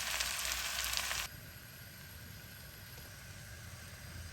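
Karahi bhindi masala, okra cooked on a very low flame, gives a soft steady sizzle that starts with a brighter burst of frying hiss and then settles into a faint, even crackle.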